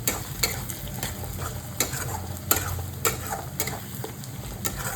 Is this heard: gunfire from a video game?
no